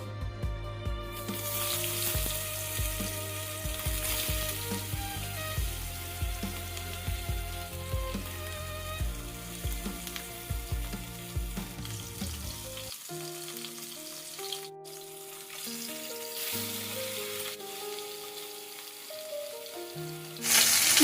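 Marinated fish pieces fry in hot mustard oil with a steady, close sizzle that crackles on throughout, with occasional spatters and a brief dip before it swells again.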